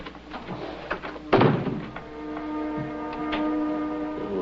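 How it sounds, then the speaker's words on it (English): A door closes with a single firm thunk partway through, over quiet room tone and faint clicks and rustles. "We close the door and turn out the light."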